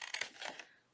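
Scissors snipping paper along a scored line during a craft project: a quick burst of crisp cuts and crinkles, close and fairly quiet, lasting under a second.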